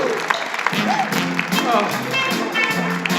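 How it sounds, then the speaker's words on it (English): A Las Vegas show crowd applauds for the performer Frank, a steady, fairly close wash of clapping with some cheering voices mixed in. "Give him a nice round of applause."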